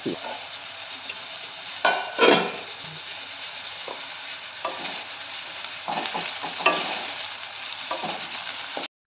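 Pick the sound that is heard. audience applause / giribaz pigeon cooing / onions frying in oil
onions frying in oil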